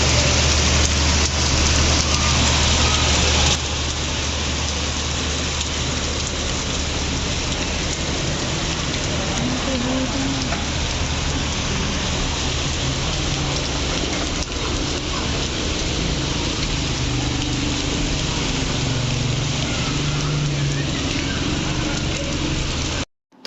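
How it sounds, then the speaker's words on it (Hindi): Stormy, windy rain at night in Hyderabad, a steady heavy downpour hissing on surfaces with a low rumble beneath, continuous and close throughout. "रात के टाइम जो तूफ़ानी बारिश हुई है और हवादार बारिश हुई है"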